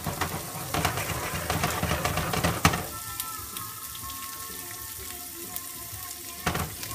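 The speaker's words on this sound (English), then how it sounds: "So we're going to let that reduce a little bit." Seasoned sauce with salt and pepper reduces in a hot pan, sizzling loudly with stirring scrapes at first, then settling into a softer, steady bubbling hiss before a final clatter.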